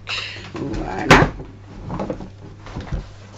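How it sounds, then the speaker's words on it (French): A lamp tips over indoors with one sharp knock and clatter, followed by a few softer bumps and rustles. "C'est ma lampe qui est tombée, c'est pas grave."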